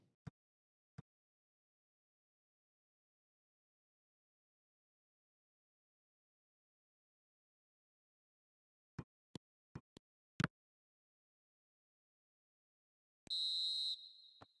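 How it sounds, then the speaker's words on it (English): A referee's half-time whistle at a football match, one clear shrill blast near the end after a few sharp knocks in an otherwise quiet stretch. "And the half-time whistle goes"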